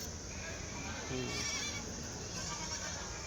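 At a busy sheep and goat market, goats give a few bleats that rise above a dense crowd murmur, with people talking nearby throughout.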